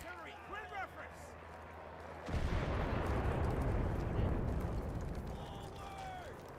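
Artillery barrage in the World War II shooter Enlisted, set in the Battle of Berlin: a sustained, dense rumble of explosions sets in after a couple of seconds and persists loudly, with a voice speaking just before.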